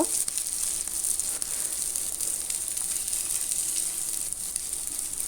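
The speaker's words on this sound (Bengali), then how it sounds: "এগুলোকে ভালোভাবে ভেজে নিব" Moringa leaf fritters frying in hot oil give a steady, dense sizzle with a constant bright hiss and faint bubbling crackle throughout, close and even with no talking.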